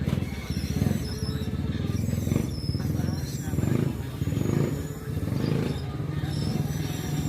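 A motorcycle engine idles and revs with a steady low rumble, and people talk over it nearby.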